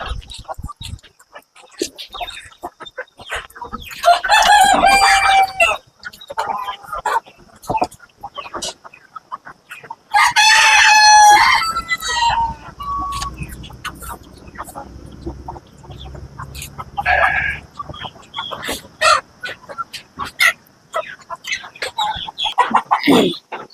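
Native country chickens on a farm cluck in loud bursts, with a rooster crowing among them, alongside steady clicks and knocks and some talk between the calls.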